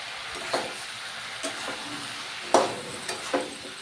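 Jackfruit is stir-fried with spices in oil, giving a steady close sizzle and frying hiss throughout, broken by a few sharp clacks and scrapes of a spatula against the pan.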